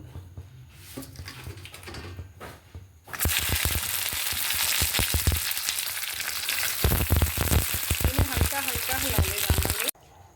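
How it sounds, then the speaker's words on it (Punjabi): Okra (bhindi) drops into hot oil in a kadai and erupts into a loud, dense, steady sizzle that fills the space for several seconds, then cuts off abruptly, with faint kitchen sounds beforehand. "ਤੇਲ ਸਾਡਾ ਗਰਮ ਹੋ ਗਿਆ ਹੁਣ ਅਸੀਂ ਭਿੰਡੀ ਨੂੰ ਇਹਦੇ ਵਿੱਚ ਪਾਵਾਂਗੇ"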